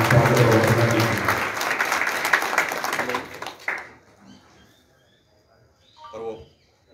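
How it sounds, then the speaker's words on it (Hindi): Loud applause from a crowd at a public meeting welcoming a local MLA, dense clapping for several seconds that cuts off sharply, followed by faint murmuring voices. "जोरदार तालियों की गणना के साथ स्वागत है"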